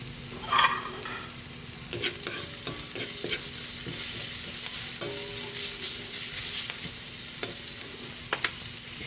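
Ginger being stirred into a hot pan with onions for Filipino menudo, steady frying sizzle under repeated spatula scrapes and clinks against the pan, close and fairly loud throughout.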